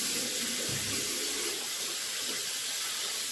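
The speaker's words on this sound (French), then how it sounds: "je vais rincer mon visage à l'eau froide" Running water splashes and hisses steadily in a shower as a face is rinsed with cold water, close by and fairly soft, with no talking.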